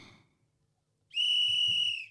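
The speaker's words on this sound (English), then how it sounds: "A whistle." A single steady, piercing whistle blown for about a second, loud and sustained after a short quiet gap, with faint low background noise and no talk.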